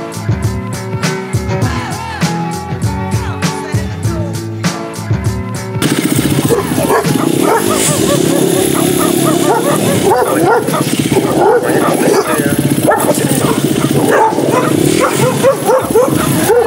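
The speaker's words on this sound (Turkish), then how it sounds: "Cihangir meydanda 3 tane köpek saldırdı." Three dogs bark and yelp in Cihangir square in Istanbul, loud and chaotic over street noise, with a person talking throughout.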